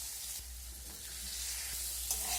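Potatoes and carrots being stirred in a frying pan, a steady soft sizzle with light scraping of the spoon against the pan, close and fairly quiet, no voices.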